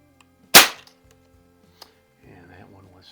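Crosman Fortify BB gun trigger pulled while being weighed with a trigger gauge, a single sharp snap up close, then a faint tick and quiet room, with a voice starting at the end.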